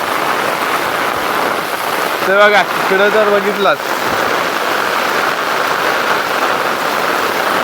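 Torrential monsoon rain pouring over a farm in Konkan, a loud continuous wash of falling water, with someone briefly speaking over it partway through.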